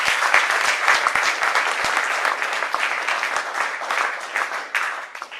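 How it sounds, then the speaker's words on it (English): A round of applause at a launch event swells from a crowd, many hands clapping densely with a few sharp close claps early on, tapering slightly near the end. "give him a round of applause, please"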